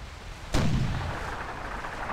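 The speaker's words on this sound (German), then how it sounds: "Kanonenhagel rein." Cannon fire in the retro pirate game Sid Meier's Pirates! as one sudden booming shot with a rumbling tail fading over the next second and a half, heard alone without speech.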